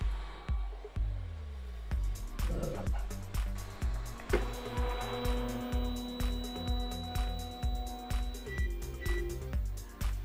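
A Folgertech FT5 3D printer homes its axes with rhythmic pulsing stepper-motor whirs, repeated tonal buzzes and a rising whine partway through, close and mechanical.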